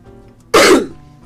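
A single sharp cough, close and loud, bursting abruptly out of a quiet room and fading over a fraction of a second.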